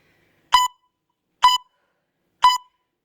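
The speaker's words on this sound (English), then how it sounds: "keep going till it beeps again." Three short, bright electronic beeps from a Pilates workout timer, evenly spaced about a second apart, sounding clearly against silence.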